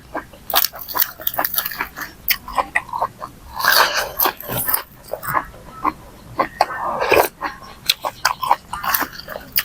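Close-up crunching and chewing of boiled blood clams dipped in spicy sauce, with sharp irregular crunches and wet mouth sounds coming in quick bursts.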